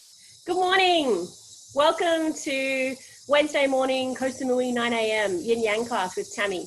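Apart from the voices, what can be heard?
cicadas and birds in the background in Koh Samui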